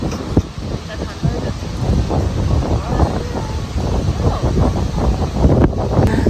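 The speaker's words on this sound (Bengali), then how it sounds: "বাজে একটা বাতাস মা" Strong wind buffets the microphone in loud, gusty roars throughout, with a voice faintly audible beneath the blustering.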